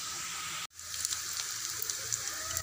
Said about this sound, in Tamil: பாருங்கள், முள்ளங்கி நல்லா வதக்கிட்டுருக்குது தேங்காய் எண்ணெயில்.